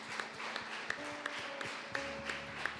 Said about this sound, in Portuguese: já dê um forte aplauso a Jesus